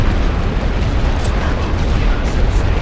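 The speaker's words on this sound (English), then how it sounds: "They're bombarding us on that direction." Artillery shells burst continuously in a WWI Western Front video game bombardment, a dense, loud, rumbling wall of explosions with no pause.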